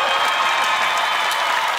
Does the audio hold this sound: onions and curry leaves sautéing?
no